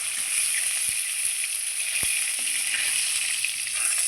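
Snakehead (shol) fish frying in hot oil, a steady bright hiss of sizzling throughout with a few soft knocks and clinks of the pan, no talking.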